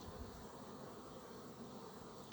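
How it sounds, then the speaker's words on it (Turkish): A close swarm of angry honeybees drones in a continuous, agitated buzz, steady and fairly loud throughout, during a hive inspection. "arı kızıyor."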